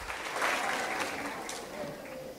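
Applause for a young performer at a secondary schools poetry slam in Trinidad, fairly faint, scattered clapping mixed with crowd murmur and brief whoops, fading slightly toward the end.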